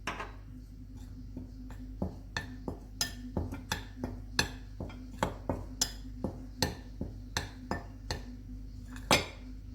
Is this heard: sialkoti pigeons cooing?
no